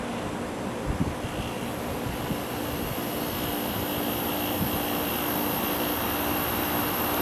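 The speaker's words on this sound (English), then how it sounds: "Let's turn on the compressor." A 1986 Carrier 5400 BTU window air conditioner runs with its compressor on, giving a steady broadband hum and whoosh with a low tonal drone. A couple of faint clicks come near the start, and the sound stays constant throughout with no talking.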